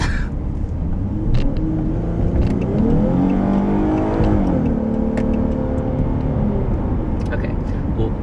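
A 2014 Dodge Charger accelerates hard from inside the cabin, its engine rising in pitch through the gears in a loud, sweeping roar, with talking over it.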